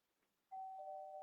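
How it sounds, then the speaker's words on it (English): A small bell rings once with a clear, sustained tone that starts abruptly and hangs on, heard faintly in the background of a quiet online quiz game show. "Can you hear my little bell in the background?"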